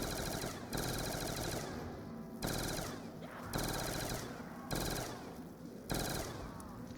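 The Lamentation gun firing rapidly in Black Ops 2 Zombies, dense loud automatic bursts of about a second each, broken by short pauses and repeated steadily.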